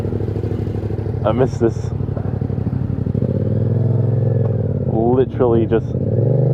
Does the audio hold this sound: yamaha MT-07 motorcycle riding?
yes